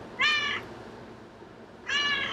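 A cat meows twice, each call a short, bright, nasal cry about a third of a second long, separated by a quiet pause of over a second, fairly close in a calm indoor setting.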